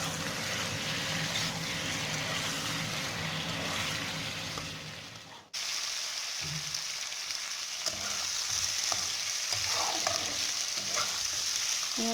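Pork and brinjal frying in oil with turmeric masala in a pan, a continuous close sizzle with stirring scrapes, briefly dipping quiet midway before resuming as steadily.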